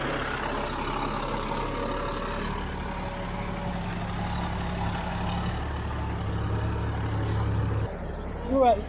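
A Kenworth W900 semi truck idles nearby, a steady, loud, low diesel rumble that holds throughout and shifts briefly near the end.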